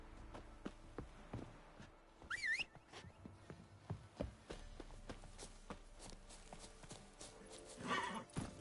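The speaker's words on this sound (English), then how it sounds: "Run, Roach." A horse in The Witcher 3: Wild Hunt, with rhythmic clip-clop hoofbeats on the ground and a sharp whinny partway through, plus game ambience and a brief burst of noise near the end.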